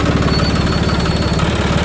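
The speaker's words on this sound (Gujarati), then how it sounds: "જોન ડીયર ટ્રેક્ટર છે." A John Deere 5310 tractor engine runs at a steady idle close by, a loud, dense diesel rumble with a rapid knocking pulse and no talk over it.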